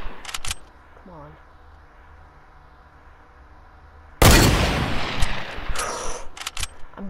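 A Fortnite hunting rifle goes off in a sniper battle: faint clicks come first, then after a quiet stretch one loud, booming shot rings out, with a further burst and reverberating tail.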